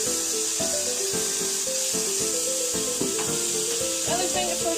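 A mini steak sizzles in a hot pan, a steady close hiss that runs beneath melodic background music throughout.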